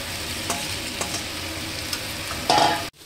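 Sukto spice mix stirred in a pan over high flame, a constant close sizzle with scraping spoon strokes that swells near the end before cutting off abruptly.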